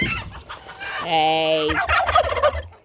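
Chickens in a backyard pen during winter, a close gobbling cluck and drawn-out crowing call in one burst, with a person briefly speaking.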